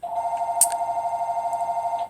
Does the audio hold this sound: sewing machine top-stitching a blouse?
no